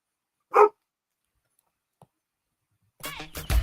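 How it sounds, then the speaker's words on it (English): A dog barks once in a sharp burst during a sports talk radio show, followed by a faint tick and then people talking close by. "Who let the dogs out? Woof, woof, woof."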